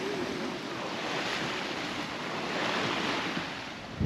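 Ocean waves wash and surge around a sailboat offshore in the Gulf Stream at night, with strong wind of about 26 knots buffeting the microphone in a continuous broadband roar that swells and eases.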